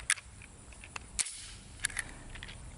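A Calico Liberty pistol's bolt slams closed to chamber a round, giving a few sharp, close metallic clacks with brief gaps, quiet handling noise between them.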